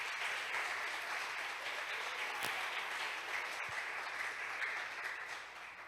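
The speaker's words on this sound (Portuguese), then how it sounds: "Você pode dar uma salva de palmas para Jesus?" Sustained applause from an audience at a year-end celebration event, dense and steady clapping filling the whole stretch, with a faint voice briefly audible partway through.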